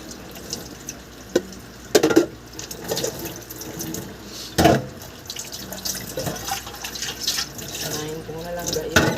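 Tap water runs into a kitchen sink while used cooking utensils are washed, a steady splashing stream with clatters and small bursts, heard up close with some speech mixed in.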